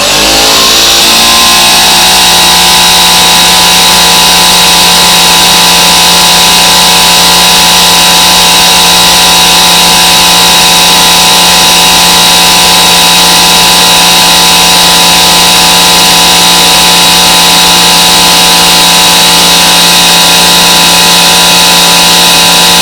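An old, long-seized Cummins CP3 diesel fuel injection pump runs steadily on a test bench at 3,500 RPM, giving a loud continuous mechanical whine with stable harmonic tones that barely vary for the whole stretch, with no speech.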